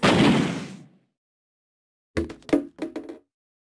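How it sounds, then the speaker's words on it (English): An explosion shatters the ice on a door in the video game 999: Nine Hours, Nine Persons, Nine Doors. A loud, broad blast fades over about a second, then after a pause a quick cluster of sharp cracking and knocking hits follows. "The blast must have shattered it."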